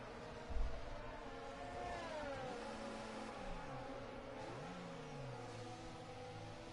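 Formula 1 race car engine in an F1 video game at the Bahrain Grand Prix, a steady whining drone with pitch sweeping down and up as the car spins out, over a low thump near the start.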